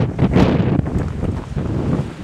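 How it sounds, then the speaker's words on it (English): Strong wind gusting over an open lakeside, a steady loud roar buffeting the microphone with no voices. "Wind is still really blowing."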